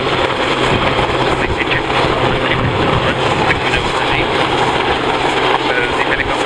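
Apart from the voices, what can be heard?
helicopter at air show rescue demonstration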